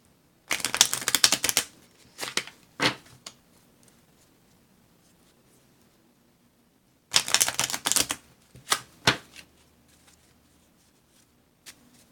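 A deck of zombie-themed tarot cards is shuffled in quick papery riffles. One cluster of bursts comes early and another comes later, separated by a long quiet stretch, all close and fairly soft.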